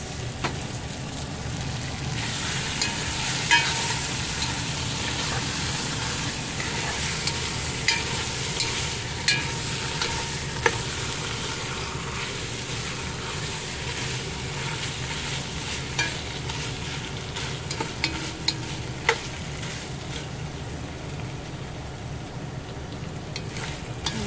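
Tomato paste and chorizo fry and get stirred in a pot for a big batch of callos, giving a steady sizzle with repeated scraping stirs and faint clinks throughout, close and continuous.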